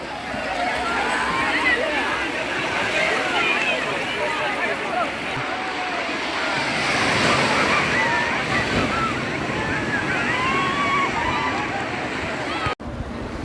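Surf rushes and roars continuously as waves break nearby, with wind buffeting the microphone and faint voices in the background.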